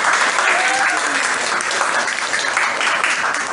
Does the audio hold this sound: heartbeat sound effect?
no